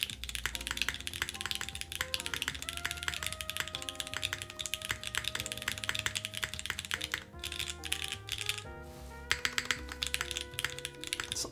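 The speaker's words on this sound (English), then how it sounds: "It's awkward typing like this." Rapid, continuous clacking of keys on a Keycult 2/65 mechanical keyboard fitted with Holy Panda switches, close and crisp, with a brief pause near the end before typing resumes.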